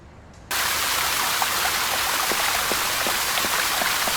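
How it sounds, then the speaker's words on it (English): An indoor fountain's water jet in the Secret Files Puritas Cordis video game switches on abruptly, becoming a loud, constant splashing rush with scattered droplet patters, alone without talk. "The water jet doesn't reach the ceiling."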